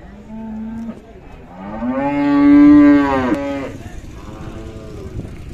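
Khillar Kajali heifer mooing at a cattle market, a short low call followed by a long, loud, drawn-out moo that swells and then fades, with quieter market background.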